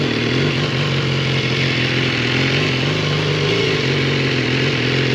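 A motorcycle is ridden off-road through the British countryside, and its engine drones loudly and continuously with steady revs. Heavy wind-like rumble sits under the engine, and no one speaks.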